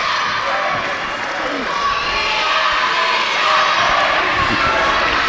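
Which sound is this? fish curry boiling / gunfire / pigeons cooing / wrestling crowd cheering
wrestling crowd cheering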